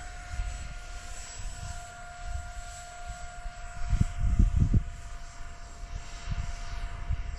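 Tiny remote-controlled MB-339 model jet plane in flight, a faint thin whine overhead that swells louder as it passes nearer, then eases off, with low rumbling wind noise underneath.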